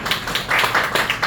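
An audience at a lecture forum claps together in a brief burst of applause, a dense, fairly loud patter of hands with no speech.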